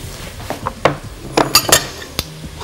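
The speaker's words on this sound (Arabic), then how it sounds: "ونقلب برضو الشعريه كده ما تلزقش في بعض اهو، وهنديها تقليب" Meat and noodles being stirred in a frying pan with a utensil: sharp metallic clinks and scrapes in quick irregular bursts, loud and close, with no talk.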